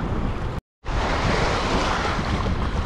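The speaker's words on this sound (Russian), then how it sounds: "И волны." Ocean waves break on a rocky beach in Antigua, a loud, close, continuous surf roar with wind, briefly cut to silence before resuming.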